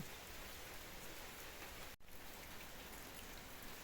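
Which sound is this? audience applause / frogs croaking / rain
rain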